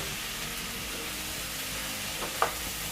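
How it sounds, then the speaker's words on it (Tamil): Chopped tomatoes with coarse salt sizzling in a pan for a bitter gourd kuzhambu, a steady soft frying hiss with one brief clink near the end, no voices. "இப்போ தக்காளி வதங்கட்டும்."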